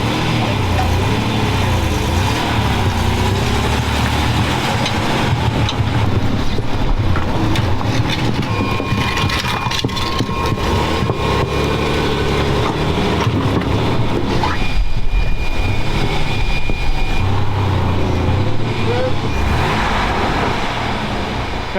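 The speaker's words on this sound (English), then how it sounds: "Oh, now I can tell it's a V6." Rebuilt V6 engine in a Chevy truck running continuously, a loud, rough, steady roar with shifting mechanical noise and faint voices in the background.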